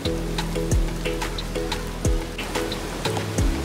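Heavy monsoon rain falls steadily around an ancient temple in the Konkan, a dense continuous wash of drops with recurring low swells, close and loud with no voices.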